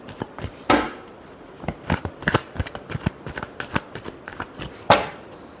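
Tarot cards being shuffled by hand, a string of crisp riffling slaps and flutters in an irregular rhythm, close and fairly loud, with no talking.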